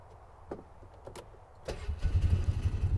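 A vehicle engine cranks and catches, then runs rough and loud as it pushes through mud with the tailgate down, a close rumbling drone.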